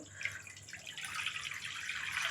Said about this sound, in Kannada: ಒಂದು ಚೊಂಬು ನೀರು ಹಾಕಬೇಕು